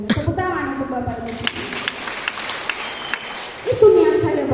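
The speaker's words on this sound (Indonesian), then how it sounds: "Tepuk tangan untuk Bapak Ibu." Indoor audience applause at a regional mentoring seminar in Makassar, a broad wash of clapping running under and between a speaker's amplified talk, swelling louder near the end.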